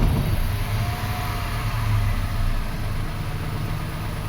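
A 2005 Toyota Passo engine running at idle after starting, a steady low hum with constant mechanical drone, close and fairly loud, no speech.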